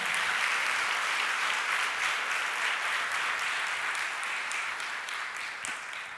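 A church congregation applauding during a Spanish-language sermon, a sustained wash of many hands clapping that stays full and steady, easing slightly toward the end.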